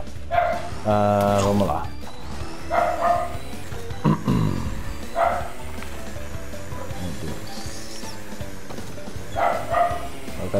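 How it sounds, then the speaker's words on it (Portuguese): A dog barks and yips in the room in short bursts, fairly close, mixed with racing game audio from Crash Team Racing Nitro-Fueled on PS4 and someone talking over it. "O cachorro vai ficar latindo"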